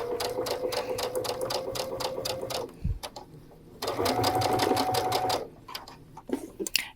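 A Brother sewing machine stitches piping cord into a fabric edge, running in two steady bursts of rapid whirring with a brief stop between them, close and fairly loud.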